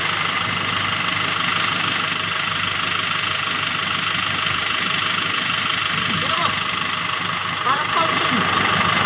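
A Nissan NV350 van sits with its engine idling in a steady, continuous mechanical hum with a faint knocking rattle, while people talk nearby throughout.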